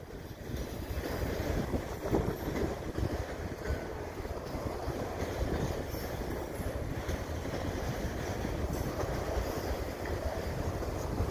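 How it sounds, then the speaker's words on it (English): A CN freight train hauled by five locomotives rolls past Dorval station in winter, a loud, steady rumble of wheels and cars sustained throughout with wind buffeting the microphone. "There might be a DPU on the end of this train."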